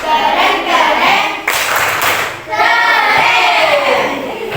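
A class of schoolchildren claps a rhythmic cheer in a classroom, sharp hand claps falling in quick patterned bursts over several seconds, loud and close, with children's voices chanting along between the claps.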